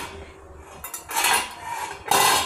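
A covered cooking pot holding a semolina breakfast dish is opened, giving a few close metallic clinks and scrapes of the lid and utensils against the pot, with a louder clatter near the end.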